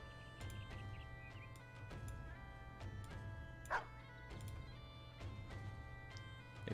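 War dogs barking in Battle Brothers, a quick series of sharp barks and yips repeating every half second or so over a steady low hum, fairly faint.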